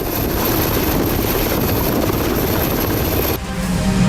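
Helicopter landing on the deck of an Indian Navy destroyer, INS Visakhapatnam, a loud continuous rotor and engine roar filling the whole span, close by, briefly dropping then resuming near the end.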